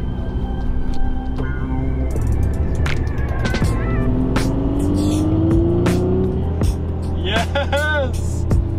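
Volkswagen Golf R with a boost gauge fitted, driving on a road under boost: steady loud engine and road roar with rising revs and a climbing whine, and people talking over it.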